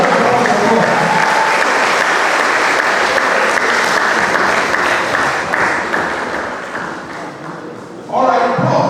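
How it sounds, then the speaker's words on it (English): Loud, sustained applause from a conference audience at a law and society event, steady crowd clapping that fades slightly before a brief lull and a renewed swell near the end. "A lot of applause."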